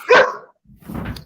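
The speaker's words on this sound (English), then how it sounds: "Yep, that's my dog." A pet dog named Toby gives one sharp, close bark, followed by a softer, rougher bark-like sound in a room, with no talk over it.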